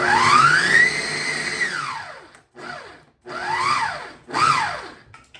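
A Vitamix food processor on its base blends a lentil mixture, the motor whining as its pitch sweeps up and down in several loud bursts separated by short pauses.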